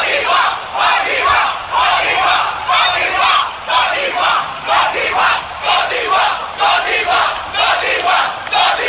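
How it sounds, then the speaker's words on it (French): A large crowd chanting rhythmically at the Miss Universe pageant, loud repeated cheers for a contestant in a steady pulsing cadence lasting the whole stretch. "toute la foule a commencé à acclamer Olivia Yassé"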